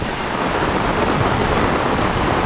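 Strong wind roars without pause beside a flooded river in Konkan during torrential monsoon rain, a loud, steady, close broadband rush with no voices.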